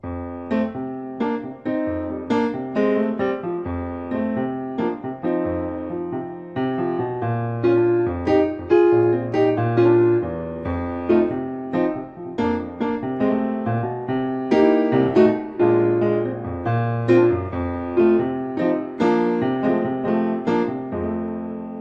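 A 12-bar blues played with straight, even eighth notes, a steady chugging pulse of repeated chords and a moving bass line running continuously, close and moderately loud, with no voices.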